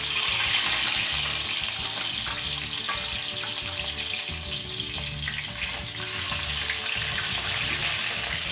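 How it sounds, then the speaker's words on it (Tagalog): Milkfish (bangus) frying in hot oil for a Filipino totsong bangus dish: a dense, continuous crackling sizzle, close and fairly loud, steady throughout with no talk. "dahil mainit na itong ating mantika, next naman na gagawin natin, ilalagyan na natin itong bangus"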